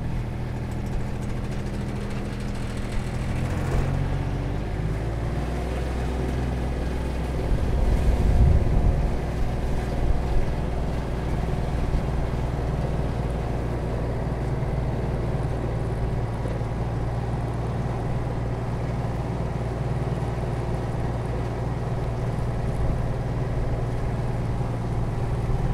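Outdoor ambience at Big Lake, Alaska, where a boat engine drones at a low steady idle, with a brief louder rumble passing midway, constant and moderately near with no voices.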